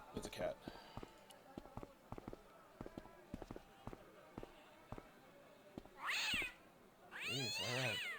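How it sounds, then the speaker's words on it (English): A cat meows twice in the Broken Sword video game, two clear mid-pitched calls near the end, preceded by a series of sharp ticking clicks and taps in an otherwise quiet scene. "Oh, it's a cat."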